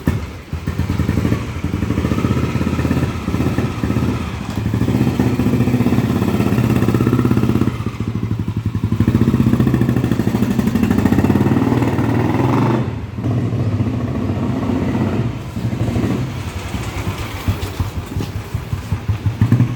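Royal Enfield Bullet motorcycle with a cast-iron engine and a freshly tuned four-speed gearbox, thumping loudly and steadily while riding, its rhythmic exhaust beat rising and dipping with gear changes throughout, with no talking.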